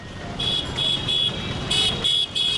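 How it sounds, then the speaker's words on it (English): Repeated car horn blasts over steady traffic rumble in Calcutta, several short honks in an irregular rhythm, fairly close by. "Everyone is honking and passing us."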